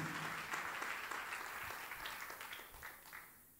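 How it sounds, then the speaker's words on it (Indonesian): Congregation applause during a church sermon, a broad, steady wash of clapping from a crowd that carries on for several seconds at moderate distance and fades slightly toward the end, with no talking over it. "Berikan tepuk tangan yang meriah buat Tuhan."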